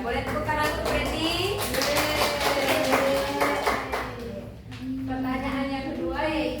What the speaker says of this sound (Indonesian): Boleh tepuk tangan untuk Preti.